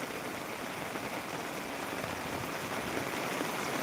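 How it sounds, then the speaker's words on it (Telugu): Heavy rain pours down over a village in Velichala as a dense, steady roar of drops hitting surfaces, constant and fairly close, with no voices. "మంచి వర్షం అని చెప్పచ్చు"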